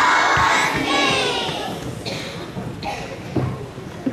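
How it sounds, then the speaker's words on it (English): A crowd of elementary school children at a morning meeting lets out a loud husky cheer that swells at once and then fades into scattered shouts and chatter. "So let's give them a husky cheer."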